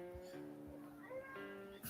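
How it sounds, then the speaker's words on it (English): A cat meows a few times at fairly close range, with rising and falling tones, over a quiet indoor background. "I don't know what's up with the cat."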